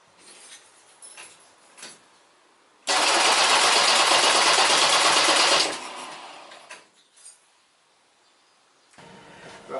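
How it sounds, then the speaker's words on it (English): A flood-damaged car engine with its choke set cranks, catches and roars for about three seconds, then sputters and dies back down, loud and close, with faint handling noises before and after. "I gave it a little bit of a turn there, didn't want to turn over."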